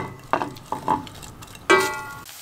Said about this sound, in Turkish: Soğanımız yumuşayana kadar kavuralım.